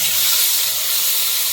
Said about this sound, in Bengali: এই যে আমি কাটা আলুগুলো দিয়ে দিচ্ছি